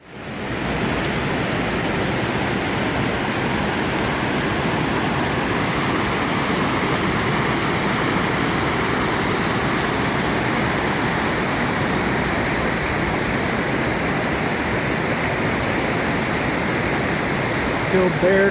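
Bear Creek rushing along a mountain trail near Selden Pass in the Sierra Nevada, a loud, steady roar of fast-flowing water, continuous and close, with no speech.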